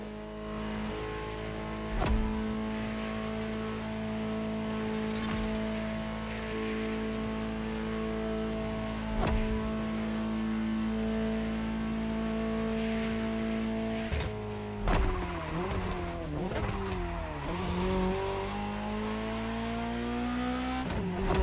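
Ferrari 288 GTO (Gran Turismo Omologato) driving in The Crew Motorfest, a steady loud engine drone with revving shifts, gear changes and brief tyre squeals, rising in pitch near the end, with no talk over it.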